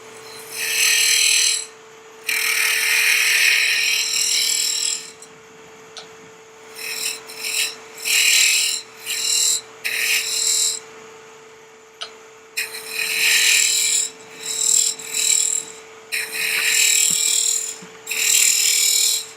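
A wood lathe tool takes light finishing cuts on an end grain lidded box: repeated short scraping bursts, close and fairly loud, over a steady motor hum.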